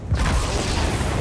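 A grenade blast in the Halo 2 video game: a loud, booming low-frequency explosion that rolls on for over a second, with no talk over it.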